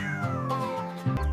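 A cartoon cat meows in a drawn-out, wavering tone, a second shorter meow following near the end, heard close and clear with a soft music bed beneath.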